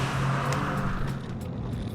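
A Vauxhall Vectra VXR, a roughly 1,500 kg salvage car, pulling hard under acceleration, with a steady engine drone and road roar heard from inside the car, loud and continuous with no talk.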